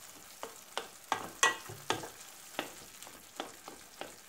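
A spoon stirs tomatoes in a hot frying pan for menemen, producing about ten distinct scraping taps against the pan at an uneven pace over a faint sizzle.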